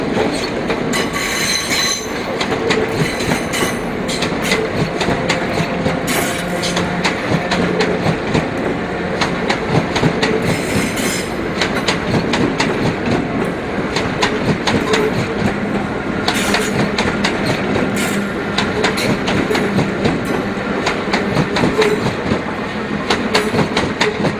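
A third-rail DC electric multiple unit train in Southern England rolls past close by, with continuous rumble, rhythmic clickety-clack from the wheels and intermittent squealing, loud and steady with no talk.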